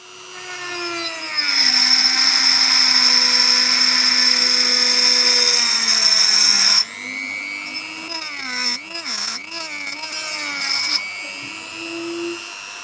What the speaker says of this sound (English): They seem good enough for cutting plastic pipes and thin pieces of wood.